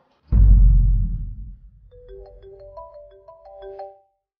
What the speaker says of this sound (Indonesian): mau angkat telepon dulu dari temennya